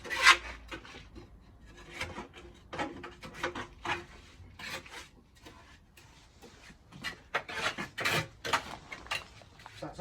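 NHL lime mortar mix being scraped and gathered into one pile inside a mixer, giving close, irregular gritty rasping and rubbing strokes with brief pauses between them.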